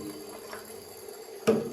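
A bathroom tap left running during a skincare routine, a steady faint trickle of water with a brief louder splash near the end, no voices.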